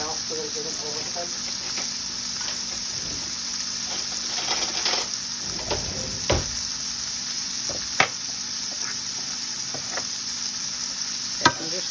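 Onions for French onion soup cook in a pan with garlic, giving a steady sizzle under occasional spatula scrapes and a few sharp metallic taps, close and continuous.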